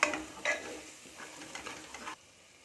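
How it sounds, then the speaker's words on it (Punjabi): Red chili powder and spices being mixed into a potato and pea curry: a few close scraping stirs over a light sizzle in a pan, brief and fairly quiet, ending abruptly. "ਇਹਨੂੰ ਚੰਗੀ ਤਰ੍ਹਾਂ ਮਿਕਸ ਕਰ ਦੇਣਾ"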